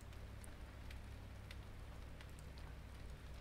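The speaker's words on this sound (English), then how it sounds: "The rain's calming down a little bit." Rain in the survival game Ylands, a soft steady hiss with a low rumble and scattered faint drop ticks, quiet and even throughout, no voices.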